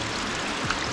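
Water trickles over rocks beside a forest hiking trail near waterfalls in Paraná, Brazil, making a steady, close, bright rushing sound with no voices.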